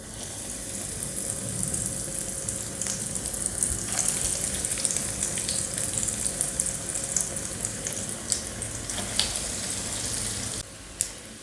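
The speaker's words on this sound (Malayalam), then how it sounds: "ഇനി ഇതിലേക്ക് നമുക്ക് ഫ്രൈ ചെയ്യാനുള്ളത് ഇട്ട് കൊടുക്കാം" Chicken rolls sizzle steadily in hot oil, a continuous close, crackling fry with soft bubbling and occasional sharper pops.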